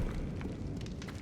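Fiery blast spell cast in Hogwarts Legacy, a dense, continuous low roaring rumble with crackling fire texture, loud and close, lasting just over a second.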